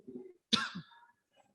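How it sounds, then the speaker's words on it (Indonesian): A single sharp cough breaks through a quiet moment at an Isra Mi'raj religious lecture, preceded by a faint low murmur and trailing into a soft throat sound. "Anda jadi batuk-batuk nih."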